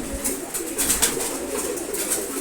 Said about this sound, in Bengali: তারপর আছে রেসার কবুতর এটা মাদি কবুতর